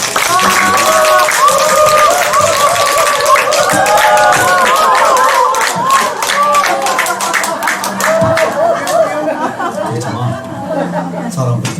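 Audience clapping at a health lecture, a continuous patter of hand claps mixed with crowd chatter and light laughter, with speech running through it the whole time.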